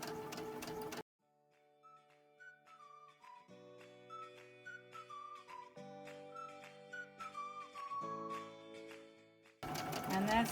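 A sewing machine fitted with a zipper foot runs a long stitch close along cording, a steady mechanical whirring with rhythmic ticking and a rising whine, framed by brief talk at the start and end.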